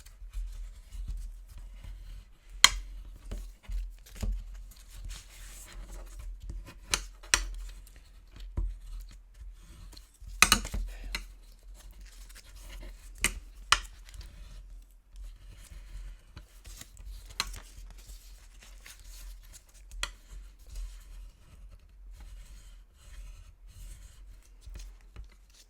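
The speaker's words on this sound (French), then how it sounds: "On débarrasse et on vient marquer nos plis." Paper being creased along fold lines for a candle holder, with soft rubbing strokes and occasional sharp taps, close and quiet over a long stretch.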